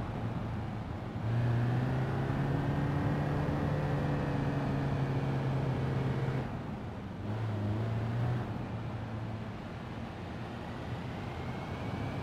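Audi Q7 3.0L turbo diesel towing a 1,400 kg trailer in BeamNG.drive, its engine droning loud and close as it revs through rising pitch, drops briefly at a gear change, then climbs again before easing off.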